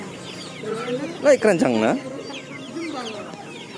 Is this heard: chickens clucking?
yes